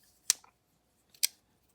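The scissors of a large, budget multi-tool give two crisp, sharp metallic snips about a second apart, close and clear against an otherwise silent background.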